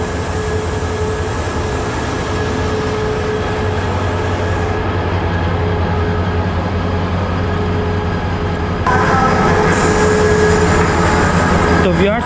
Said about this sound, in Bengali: আর এইমাত্র কিন্তু আমাদের ট্রেন চট্টগ্রাম স্টেশনে পৌঁছেছে